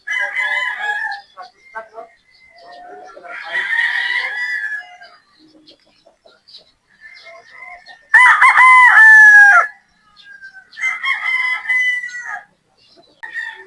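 Broodstag and battle stag gamecocks bound for an expo in Albay give scattered clucks and short calls, then one loud, drawn-out crow close by near the end, followed by a few more calls.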